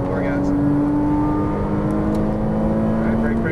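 A Ferrari 458 Italia on a race track gives a steady, loud engine drone with a rising tonal whine, close and continuous, as the car pulls hard under throttle.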